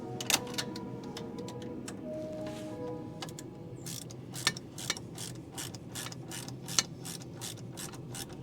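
A hand ratchet clicks in short bursts as a ball joint bolt is run in on a Civic Type R, quiet and close, with sharper metallic ticks scattered through the clip.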